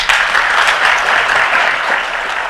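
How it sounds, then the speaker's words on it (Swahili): Audience applause for the president at Deputy President Gachagua's speech in Bomet, Kenya: a dense, steady burst of many hands clapping at full volume for the whole stretch, with no voices standing out. "Mpigie rais makofi."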